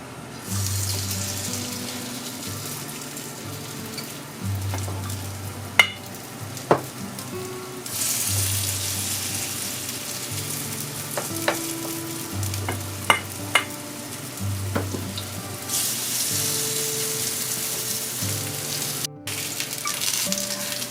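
Potato pancakes (deruny) fry in hot oil in a skillet with a steady close sizzle, joined by occasional clinks and stirring sounds, with a low rhythmic background hum throughout and no talking.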